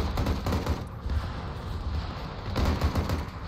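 Rapid bursts of gunfire as soldiers shoot at targets in a military video game, dense crackling volleys running throughout, loudest at the start and again near the end.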